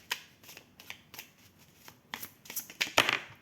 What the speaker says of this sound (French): Je vais prendre peut-être encore une dernière carte.